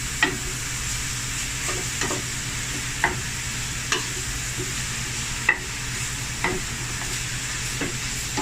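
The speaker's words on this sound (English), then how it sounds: "I'm gonna brown this meat" Steady sizzling of a 50-50 beef and pork blend browning in a pan, with a utensil tapping and scraping at a slow, regular pace, close up and without speech.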